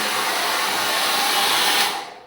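A hair dryer blows steadily at close range onto a fogged bathroom mirror, a loud even airy whoosh that cuts off at the end.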